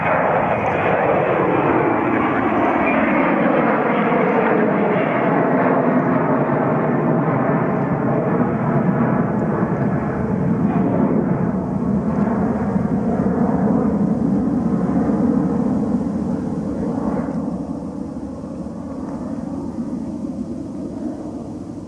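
A jet airliner rolls and climbs away from runway 35 right at Calgary, a loud, sustained engine roar that holds steady for over twenty seconds before easing slightly as it departs.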